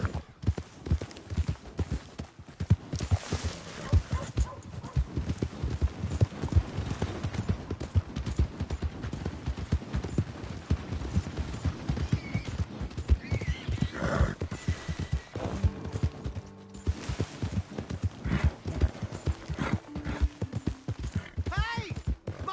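Horse hooves clip-clop in a fast, continuous rhythm with repeated neighing and whinnying in Red Dead Redemption 2, up close and loud, with a voice talking over them at points.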